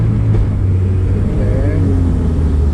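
A manual-transmission car's engine idles with a low, steady rumble while the learner driver pulls away in first gear and shifts to second, the pitch rising slightly as the engine revs.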